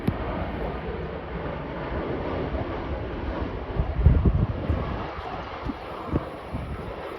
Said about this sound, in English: Landing now, it's an EasyJet Airbus A320.